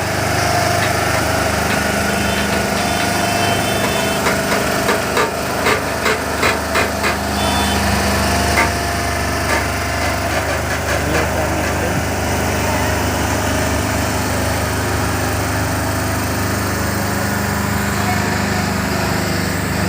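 A very long multi-axle truck's engine runs steadily while the vehicle drives on a highway near a toll plaza, a loud continuous low drone with some rattling bursts in the middle and a voice talking over it.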